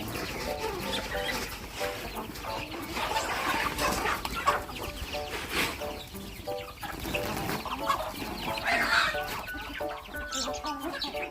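Chickens clucking in a busy farmyard, several birds calling over one another with scattered rustling and occasional distant voices.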